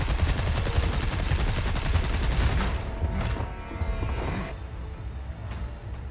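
Rapid gunfire from Resident Evil 4 Remake, a dense burst of repeated shots filling the first half, then a few scattered shots trailing off amid quieter game ambience.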